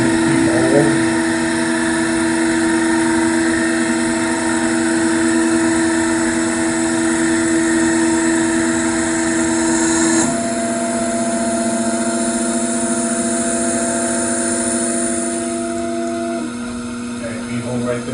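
A lathe spindle turning a custom part gives off a steady high-pitched whir with sustained tonal hum, shifting tone partway through and easing off near the end.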